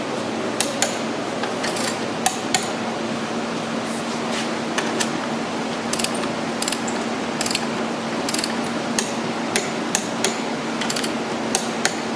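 A ratchet wrench clicks in quick, irregular bursts as an M8 bolt is tightened to 30 foot-pounds during a track installation. A steady mechanical hum runs underneath, with no talk.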